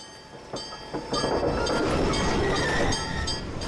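A streetcar of the Bahia Tramway in Salvador rolls past with rumbling wheels, clinks and metallic squeal, growing louder midway and then easing off.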